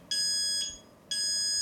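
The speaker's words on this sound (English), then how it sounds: "That's the low battery indicator. So that's how you know it's time to change batteries." Two shrill electronic low-battery beeps from a 3D-printed fighting robot, each about half a second long and evenly spaced, sound close and alone over faint background hiss.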